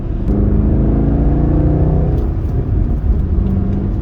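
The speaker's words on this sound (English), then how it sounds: "you can kind of hear the induction noise because of that like boom tube that basically is connected to the intake" A 2017 Chevy SS engine in sport mode with exhaust valves open drones loudly and steadily up close, a deep throaty rumble with a whooshing intake induction hum, no speech over it.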